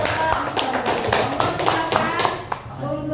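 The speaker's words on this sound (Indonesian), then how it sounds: "Kita berikan aplaus dulu untuk" Audience applause at an Indonesian mentoring session: a small crowd claps steadily for a few seconds, with voices mixed into the clapping.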